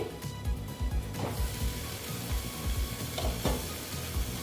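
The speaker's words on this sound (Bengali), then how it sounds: "আমার মশলাটা মোটামুটি ভাজা হয়ে গেছে" Spice paste for a quick okra (bhindi) dish fries in a pan with a steady sizzle, while a spoon stirs and scrapes in rhythmic strokes close up.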